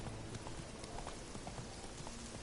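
Horse hooves clip-clop in the video game The Witcher, a quick, steady trot of soft repeated hoofbeats heard close over a constant ambient wash, with no talking.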